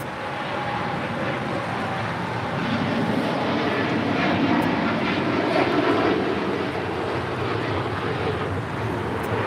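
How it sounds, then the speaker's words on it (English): A Turkish Airlines Boeing 787-9 Dreamliner takes off at LAX, a steady broadband jet roar that swells slightly toward the middle and holds loud and continuous throughout, with some wind buffeting and no talk. "This is Turkish Airlines 180 taking off to Istanbul on a 787-9 Dreamliner"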